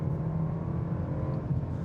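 A 2025 Kia K4 GT-Line under hard acceleration gives a steady, loud engine drone with a low, even hum, heard from inside the car for a couple of seconds with no talk.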